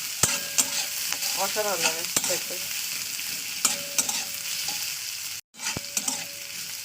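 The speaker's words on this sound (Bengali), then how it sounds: "এটাকেও আমি 1 থেকে 2 মিনিট ভাজা করে নেবো" Carrots and beans frying in a pan, a steady sizzle with scraping stirs and utensil clicks, while someone talks briefly over the cooking.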